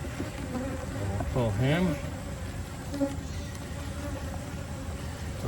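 Honey bees buzz steadily during a hive inspection in a summer dearth, a close, swarming drone with a few louder bees swooping past, while a person speaks briefly over it.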